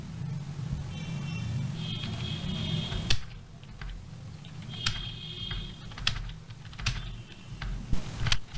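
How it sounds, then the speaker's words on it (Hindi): Keys clatter on a computer keyboard during a document-editing session, bursts of quick close taps separated by short pauses and a few louder single strikes over a low background hum. "उसके बाद हम यहाँ टाइप करते हैं"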